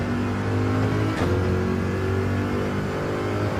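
A Chevrolet Corvette engine roars under acceleration in second gear on a track, loud and close, with a brief shift then a rising, strained tone as the revs climb again.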